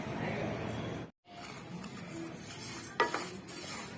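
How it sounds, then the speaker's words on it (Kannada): Sesame seeds roast in a pan while being stirred, giving soft scraping and light sizzling with a brief pause near the start and a sharper clink later, faint and close. "ಇವಾಗ ಎಳ್ಳನ್ನ ಹುರ್ಕೊಳ್ತಾ ಇದ್ದೀನಿ"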